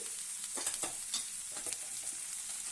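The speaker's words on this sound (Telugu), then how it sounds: "మనం కోసించుకున్న బీరకాయ ముక్కలు వేయించుకుందాం" Chopped ridge gourd pieces frying in a spoonful of oil in a pan, a steady close hiss with a few soft stirring scrapes over a short stretch, no voices.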